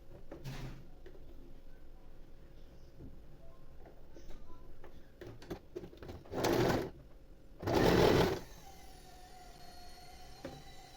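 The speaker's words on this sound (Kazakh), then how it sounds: "Енді мына жақ бөлігін қосып тігеміз." An electric sewing machine stitches fabric for a headscarf in two short bursts of whirring, each about a second long, against quiet room sound with scattered small clicks and handling noises.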